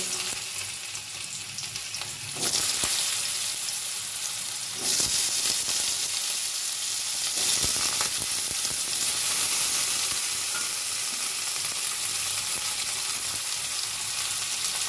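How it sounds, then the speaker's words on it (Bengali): Cut potato pieces dropped into hot oil in a pan after frying cauliflower, a continuous close hiss that jumps louder as more pieces go in, with occasional stirring scrapes over the steady frying; no one talks. "এবার টুকরো করা আলুগুলো ভেজে নেব"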